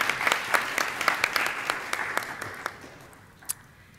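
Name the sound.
applause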